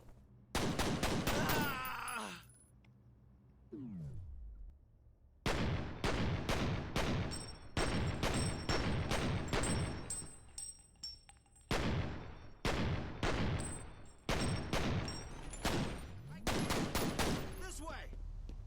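Enemy gunfire in the horror shooter F.E.A.R. comes in loud, sharp clusters of rapid shots separated by short pauses, with a groaning voice and other game sounds between volleys.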